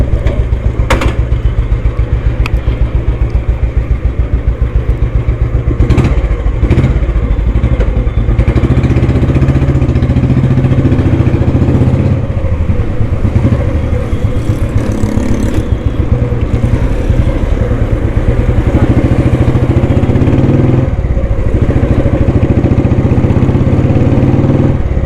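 A 1999 Royal Enfield Bullet in good engine condition idles loudly and close by, a steady thumping single-cylinder beat continuing for the whole stretch with occasional clatter.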